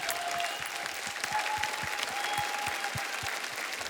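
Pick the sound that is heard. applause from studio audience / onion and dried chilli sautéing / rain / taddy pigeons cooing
applause from studio audience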